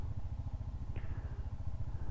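A motorcycle engine idles and putters close by as the bike is turned around in a traffic jam on a mountain road to Leh, a steady low rumble with a brief clatter midway.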